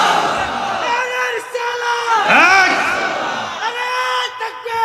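A crowd at a Bengali religious sermon (waz) shouts the takbir, Allahu Akbar, in loud, ringing unison calls that rise and fall, with a strong voice leading over the massed response.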